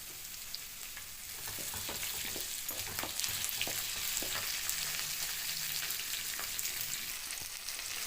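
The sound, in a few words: sautéing onion and tomato in pan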